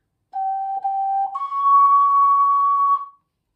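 A clean, breathy ocarina tone held steady, then jumping to a higher sustained pitch, like a kettle whistle coming to the boil; nothing else heard.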